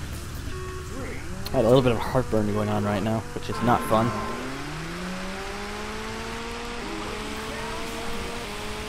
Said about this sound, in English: in the soaking rain